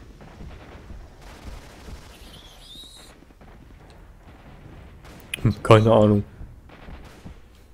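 Gunfire in the video game S.T.A.L.K.E.R. Shadow of Chernobyl: a loud burst of shots near the end, with a few fainter earlier pops, while someone speaks German quietly.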